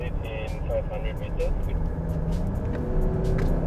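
Diesel engine of a 2019 Mazda CX-8 accelerating in third gear under manual shift mode, a steady low rumble heard from inside the cabin with some talk over it.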